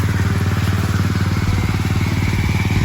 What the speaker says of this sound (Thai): ที่ได้ยินเสียงเครื่องตึ๊ดตึ๊ดตึ๊ดตึ๊ดตึ๊ดตึ๊ด